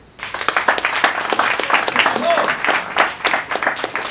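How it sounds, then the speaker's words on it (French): An audience at a ceremony in Parakou, Benin, breaks into applause, with individual claps standing out in a lively, uneven patter and some voices mixed in. "On va applaudir, s'il vous plaît."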